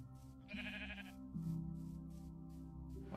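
Sheep in Minecraft on the PS3 bleating in a few drawn-out, overlapping calls, faint and close together, with no talking.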